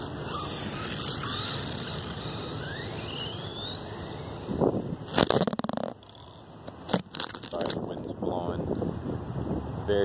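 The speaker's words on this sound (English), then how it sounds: "Very windy day." Gusty wind buffets the microphone with rumbling noise, joined midway by sharp bursts and clatter from a WLtoys K929 brushless RC car; a voice can be heard faintly in the background.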